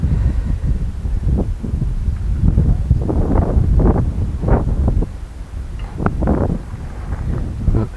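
Outdoors, gusty wind buffets the microphone in uneven rumbling bursts, loud and continuous, with no other clear sounds.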